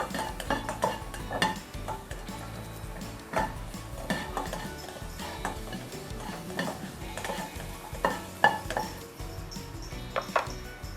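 Shallots fry in oil as a utensil stirs and scrapes the pan, producing repeated metallic clinks and scrapes over a faint sizzle, close and moderately quiet.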